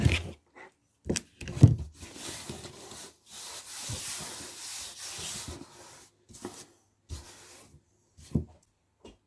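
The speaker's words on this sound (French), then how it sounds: "Je vais nettoyer un petit peu ma table" Craft table in a scrapbooking workspace being wiped clean, with close, irregular rubbing and brushing strokes in short bursts and gaps, loud and near, without any talk.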